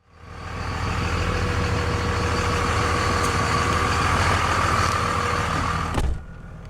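A 2002 Dodge Ram 2500 SLT Quad Cab 4x4 with a Cummins turbodiesel inline-six runs at a steady, loud idle, a deep continuous rumble that holds evenly for several seconds before a brief bump near the end.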